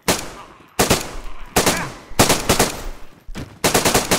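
Automatic machine-gun fire in the survival shooter DayZ, loud and close, coming in several sustained bursts separated by brief gaps.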